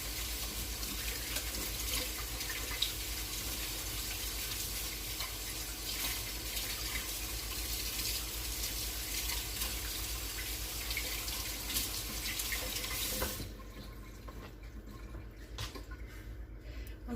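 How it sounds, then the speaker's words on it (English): Tap water runs steadily into a sink during handwashing, a continuous close hiss that cuts off abruptly near the end, leaving a quieter room. "And then we're going to wash our hands."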